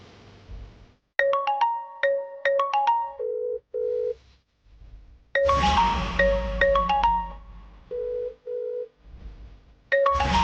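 A mobile phone ringtone plays a bright repeating electronic melody in phrases, with short pauses and a gap, while the call goes unanswered indoors.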